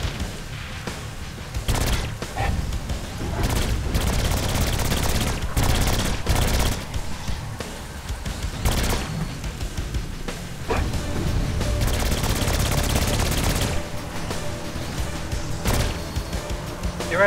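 Alien SMG fire in the video game Saints Row IV bursts out in rapid, repeated volleys with sharp impacts and booms, loud and dense throughout the gameplay.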